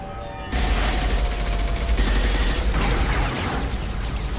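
Sustained, dense gunfire in the Mass Effect 2 video game erupts suddenly and continues as a loud, continuous rattle of shots and booms for several seconds.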